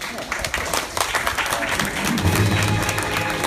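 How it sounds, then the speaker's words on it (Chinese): An audience claps for the unveiling of a light rail train at a new-town station ceremony. The applause is dense and steady, with a voice speaking over it. "掌声欢迎我们的吕子昌理事主席。"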